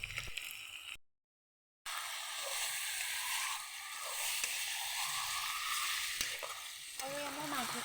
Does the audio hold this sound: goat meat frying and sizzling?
yes